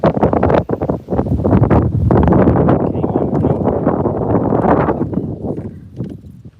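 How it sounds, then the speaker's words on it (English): Strong gusting wind buffeting the microphone on a lake during a bass fishing tournament, loud rumbling roar with rustling, nearly continuous and dropping briefly before fading at the end. "And this wind is brutal."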